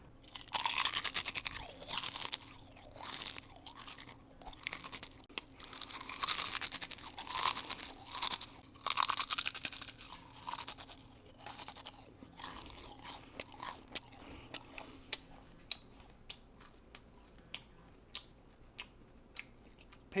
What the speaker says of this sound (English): crunch their chips real loud, talk with their mouth full, and smack their lips